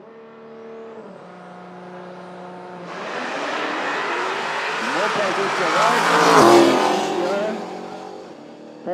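Supercharged and twin-turbo drag race cars launch and race at a no-prep drag strip at Toronto Motorsports Park, a steady engine drone swelling into a loud, roaring, tire-squealing pass that builds and then fades.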